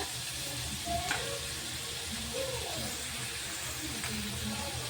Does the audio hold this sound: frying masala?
yes